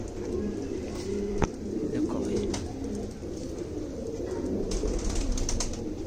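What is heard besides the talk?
Shiyadume breed pigeons cooing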